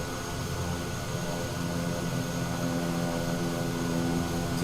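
Steady, even drone of a Kodiak 100 turboprop engine in Microsoft Flight Simulator, a constant tonal whine and hum holding at one level throughout with no talk.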